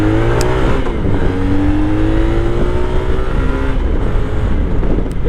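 A Honda Magna motorcycle being ridden, its engine loud and close with rising and falling revs through gear changes, continuous and steady under wind noise.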